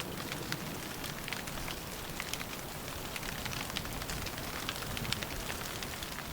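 Steady rain patters in the Vosges mountains of France, a dense, even hiss of drops striking surfaces with a few sharper taps standing out, continuous and fairly faint with no voices.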